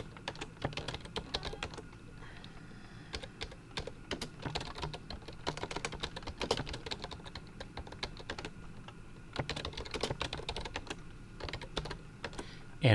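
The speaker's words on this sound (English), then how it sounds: "I'm just going to type in some information." Steady typing on a computer keyboard while filling in a PDF form, with quick irregular keystrokes running continuously and close for the whole stretch, no voices.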